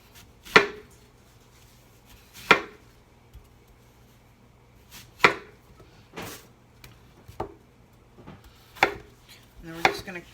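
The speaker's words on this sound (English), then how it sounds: "we're just going to slice off each cheek one at a time" Knife slicing through apple cheeks onto a cutting board, with sharp isolated chops spaced a second or two apart, close and clear, a quick double cut near the end.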